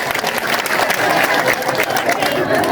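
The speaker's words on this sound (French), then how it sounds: "Donc applaudissons nos femmes." Applause breaks out from a crowd at an ambassador's visit event, a dense continuous clatter of clapping with faint chatter beneath it.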